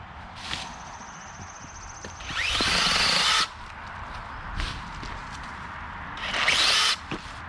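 A small 6-inch mini chainsaw buzzes in two bursts, whining loudly as it bites into wood, with rustling and handling noise between the cuts.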